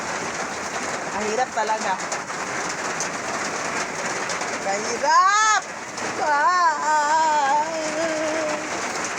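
Rain falls outside a house as a steady, even hiss that runs throughout, with a person talking over it in the foreground.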